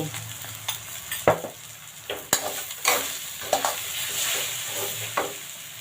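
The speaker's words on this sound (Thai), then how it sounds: "ผัดให้เข้ากันเลยค่ะ" Preserved radish and egg are stir-fried in a pan, with a spatula scraping and tossing in an irregular rhythm of close clanks over a steady background sizzle.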